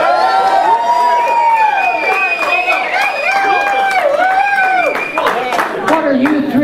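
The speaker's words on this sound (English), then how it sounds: "What are you three guys cheering about?" Comedy show audience at a VFW hall cheering, whooping and hollering loudly, overlapping shouts and high whoops over light clapping, continuous and close.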